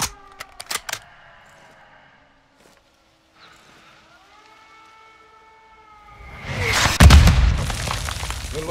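Heavy mortar explosions in Call of Duty: Modern Warfare II: a whistling descent, then a loud, rumbling blast near the end, after earlier sharp clicks and quiet.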